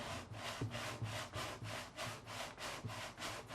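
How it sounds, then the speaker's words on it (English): Steady rhythmic sanding of a wooden guitar body, a coarse rasping stroke repeating back and forth about every third of a second, close and continuous. "Sanding. Lots and lots of sanding."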